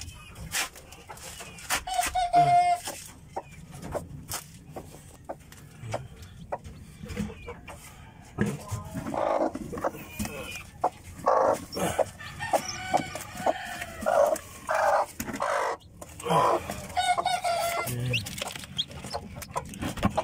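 Gilmore gamefowl breeder chickens cluck in bursts while roosters crow several times at moderate distance, the calls scattered across a busy yard with some background noise and faint human voices.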